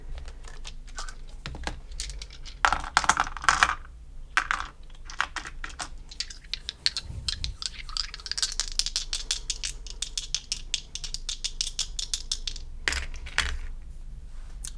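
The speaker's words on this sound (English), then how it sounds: "And we're rolling 2 dice for you." Two dice rolled during a tarot reading, heard as a run of hard clattering rattles and tumbling clicks, bursts of bouncing across a surface that settle into scattered taps, loud and close with no voices.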